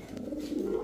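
A European toy Lahori pigeon gives a short, soft, low coo lasting under a second, close by, with faint background noise.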